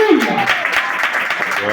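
A church congregation claps in praise during a Portuguese-language worship service, with brisk, rhythmic clapping running under a voice that opens and continues on top of it.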